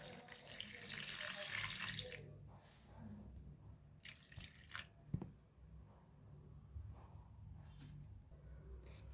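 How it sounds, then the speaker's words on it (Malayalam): Plain tap water gushes into a bowl at first, then settles into softer splashes and a few drips, heard up close and fairly quiet. "ഇനി ഇതിൻ്റെ അകത്തിലോട്ട് നമുക്ക് കുറച്ച് നോർമൽ വെള്ളം ഒഴിക്കാം."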